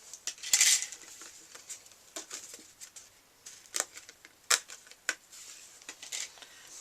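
Die cutting machine rolling an embossed card through, a quiet sequence of irregular clicks, ticks and small clacks of plates and rollers, close and sparse with short louder taps.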